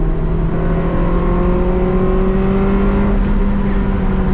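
A Honda Integra Type R engine revs loud and close, its steady climbing whine rising in pitch as it pulls toward the VTEC crossover, heard alone without voices.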